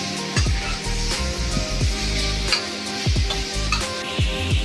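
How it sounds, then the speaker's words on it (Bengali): Raw mango pieces stirred and fried in hot oil for a tamarind-style green mango chutney, a steady close sizzle broken by repeated scraping clicks of the spoon against the pan. "এইভাবে কিছুক্ষণ আমগুলো তেলের মধ্যে নাড়াচাড়া করে ভাজতে হবে।"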